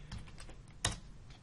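Computer keyboard typing, a few soft scattered keystrokes with one sharper key press near the middle, close and quiet, no talk.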